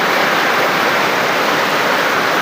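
Heavy rain pours down in a dense, steady roar after a hot midday, loud and constant throughout with no pauses and no voices.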